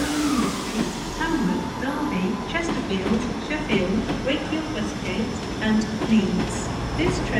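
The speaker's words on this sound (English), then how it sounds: "about to come in now is a cross country service to Leeds." A CrossCountry Class 220 Voyager, eight coaches with 220024 leading, pulls into Exeter St Davids on a service to Leeds. It gives a steady, close diesel rumble with faint rail clatter, and someone talks over it throughout.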